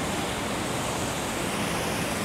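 Steady, full rushing of falling water from a waterfall in Kuala Lumpur, Malaysia, a dense unbroken roar that stays constant throughout.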